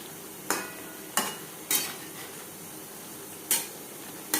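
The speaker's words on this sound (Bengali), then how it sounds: "আলু ও মশলার সাথে ফুলকপি আরও চার পাঁচ মিনিট রান্না করব" Potatoes and cauliflower with spices being stirred and cooked in a pan over medium flame; sharp spoon scrapes and clanks against the pan come at irregular intervals over a soft steady sizzle, with no one talking.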